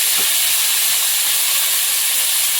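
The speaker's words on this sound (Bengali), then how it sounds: "কড়ার মধ্যে তেল আছে তার মধ্যে এই চিংড়ি আর টমেটোটা দিয়ে" Shrimp and tomato dropped into hot oil in a pan, a loud, steady, close sizzle filling the whole moment without pause.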